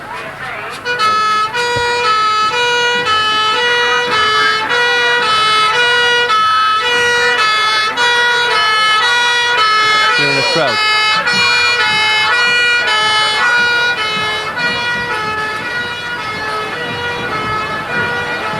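A fire engine siren wails at the 1987 North Petherton Guy Fawkes Carnival, loud and sustained with repeating tonal cycles close by, as a commentator speaks over it among crowd noise.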